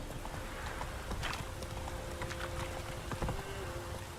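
Roach, a horse in The Witcher 3, clip-clops faintly at an uneven pace beneath a dense, noisy ambient bed with buzzing insects and soft tonal hums.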